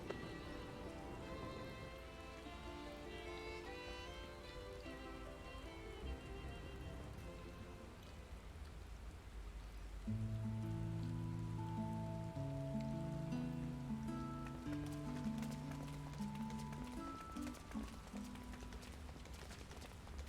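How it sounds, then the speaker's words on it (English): Steady rain in the video game Final Fantasy XIV: Endwalker patters continuously throughout, joined partway by low, sustained musical tones. "Raining when we get here, okay."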